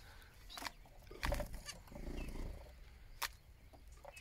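Young Chinese quails and other birds in an aviary give scattered clucks and short calls, with a couple of louder bursts of fluttering or scuffling nearby and a faint background hum.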